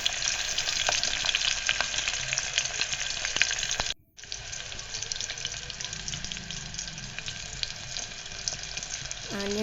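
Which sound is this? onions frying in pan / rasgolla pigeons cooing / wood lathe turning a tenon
onions frying in pan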